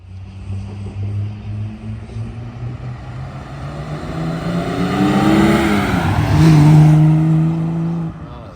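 Restored Holden Torana GTR XU1 engine running as the car drives, a steady low drone that swells and revs up toward the end, heard up close with no talking.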